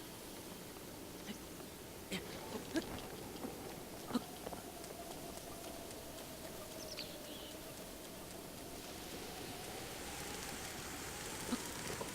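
Steady rainfall in a Zelda video game, a constant soft hiss of falling rain with scattered faint clicks and taps, continuous and low in level.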